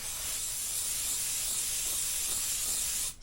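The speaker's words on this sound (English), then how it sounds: "Spray it onto a cloth" A steady, close aerosol brake cleaner spray onto a cloth, hissing continuously for about three seconds, then cutting off abruptly.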